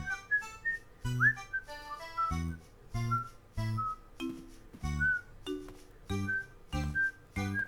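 A person whistles a slow, wandering tune of short separate notes, fairly soft, over light background tones and clinks.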